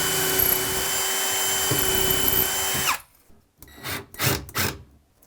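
A power drill drives screws into cabinet face frames, whirring loudly and steadily for about three seconds, then stops abruptly, followed by a few shorter bursts of scraping and handling noise nearby.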